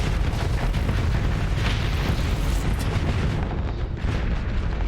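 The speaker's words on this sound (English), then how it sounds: "And then you'll see the difference in explosion again here in a second." A ship explodes in Starsector, a loud, sustained rumbling blast with deep booms and crackling bursts filling several seconds, heard alone without talk.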